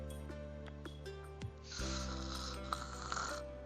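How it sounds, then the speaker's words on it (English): Slow, steady sleeping breath with a soft snoring quality from a character in the visual novel game Men of Yoshiwara: Kikuya, close and quiet beneath a soft music bed. "I began to hear the regular sound of his quiet breathing as he slept"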